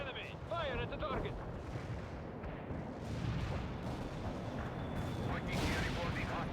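Heavy battlefield explosions from an anti-tank strike in the World in Conflict strategy game, a dense continuous barrage of blasts and rumble over a river crossing, with radio chatter and game voices mixed in.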